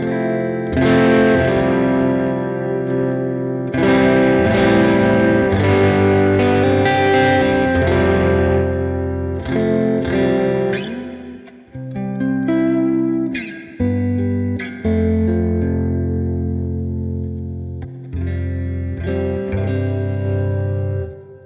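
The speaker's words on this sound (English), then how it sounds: "Let's hear your bass clean tone." Electric bass played with a clean tone through a Quad Cortex amp model, sustained notes and short phrases ringing loud and steady with a touch of chorus-like shimmer, no talking.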